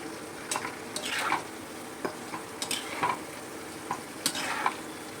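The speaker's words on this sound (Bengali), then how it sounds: "এরকম একে একে সব পকোড়াগুলো এরমভাবে ভেজে নেব" Pakoras frying in hot oil in a pan, a steady close sizzle broken by repeated scraping and stirring clinks of a utensil.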